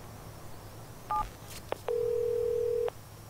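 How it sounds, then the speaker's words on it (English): A phone call being placed in the video game Watch Dogs 2: a short pair of dial beeps, a click, then a single steady ringback tone lasting about a second over quiet background hum. "He's gonna get a call from Jimmy Siska"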